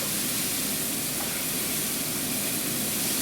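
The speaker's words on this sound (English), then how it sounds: "Browning up the sausage, gonna be a sausage." Sausage browning in a pan for a breakfast casserole gives a steady, loud broadband sizzle and hiss throughout, with no talk over it.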